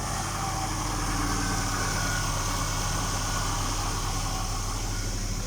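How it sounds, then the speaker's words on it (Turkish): A Tofaş Doğan 1.6 petrol engine idles steadily on petrol, a continuous close low rumble with a compressor running behind it and no voices. "Şu an benzinle çalışıyor."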